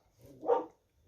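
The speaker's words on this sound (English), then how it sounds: "I do apologize for my dog barking in the background" A dog barks once in the background, a short, faint bark rising and fading over about half a second in an otherwise quiet room.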